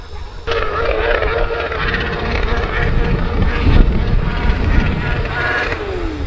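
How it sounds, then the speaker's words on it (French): Motorcycle engine revved hard against the rev limiter near a maize field being sown, a loud, harsh, buzzing drone lasting several seconds, rising and wavering slightly, over a bed of wind and field noise. "Il y en a un pour faire des rupteurs comme ça, je pense qu'il aime pas trop sa moto."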